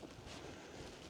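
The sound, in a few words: breeze blowing outdoors on Dartmoor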